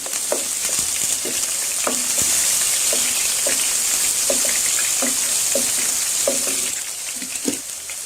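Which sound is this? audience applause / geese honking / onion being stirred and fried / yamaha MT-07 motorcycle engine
onion being stirred and fried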